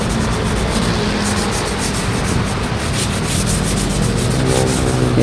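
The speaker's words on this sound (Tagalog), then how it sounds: "Yun nga po, nililiha natin." A metal entrance gate is sanded before repainting, giving a loud, continuous abrasive rubbing that stays close and unbroken throughout, with no talk.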